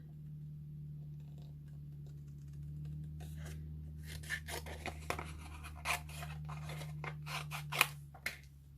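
Scissors snipping around a stamped paper image, quiet at first, then a run of irregular crisp cuts growing denser and louder toward the end, close up with no talking.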